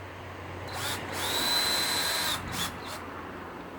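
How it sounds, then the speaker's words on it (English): A power drill drives a screw for a zip tie mount into a tree outdoors, with a short whirring run, a brief pause and a couple of quick bursts, close and fairly loud. "you go and you screw that zip tie"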